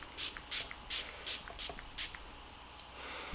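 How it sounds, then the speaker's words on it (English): Tatcha Dewy Skin Mist is sprayed onto a face in about seven short, hissing pumps at a steady rhythm, close by and soft, with a quiet pause after the last spray. "I'm gonna go ahead and spray my face with some Tatcha Dewy Skin"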